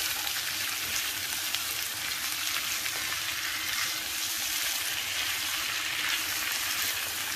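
Cut potatoes frying in oil in a pan for a tomato and potato breakfast bhaji, making a loud, even, continuous sizzle and crackle with no talking.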